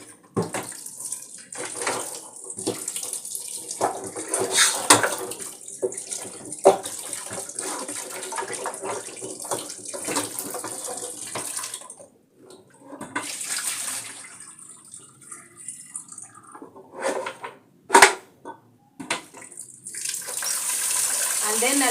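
Soup bones being rinsed under a running tap for bone broth, a steady gush of water splashing over them in a sink with brief pauses and clatters, occasional speech underneath.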